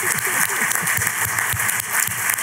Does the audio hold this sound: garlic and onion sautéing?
no